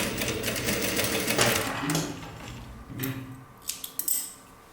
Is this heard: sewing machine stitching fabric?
yes